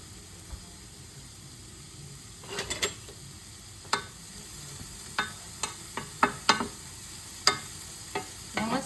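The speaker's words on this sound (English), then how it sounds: "Let's saute these up." Leftover vegetables and mushrooms sautéing in a frying pan, a low soft sizzle beneath a series of sharp utensil clicks and scrapes that grow more frequent toward the end.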